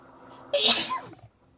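A single sharp sneeze from a person indoors during a trading card session, close and loud, rising abruptly after quiet and fading within about half a second.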